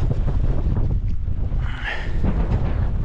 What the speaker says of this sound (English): The wind's not ridiculous, about 20 just now.